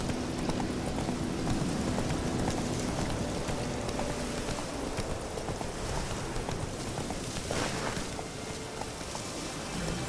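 Roach, a horse in The Witcher 3 game, runs along with steady clip-clopping hooves over a continuous rain-like wash of ambient noise, loud and close throughout.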